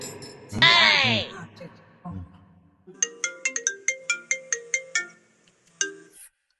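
A mobile phone ringtone plays nearby, a quick series of bright tinkling musical notes in a steady rhythm, preceded by a brief burst of other sound and a voice.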